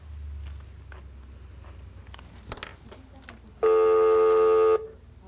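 Calling a cell phone sets off a single loud, steady electronic tone lasting about a second. Faint clicks and handling noise come before it, and no one speaks.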